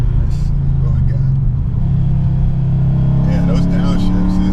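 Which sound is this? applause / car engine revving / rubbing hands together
car engine revving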